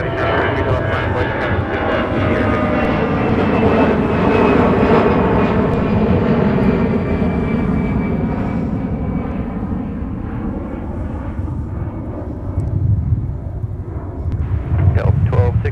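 A heavy jet airliner takes off at MSP airport with a loud, sustained roar that swells and slowly shifts as it climbs away, while faint radio voices sit underneath.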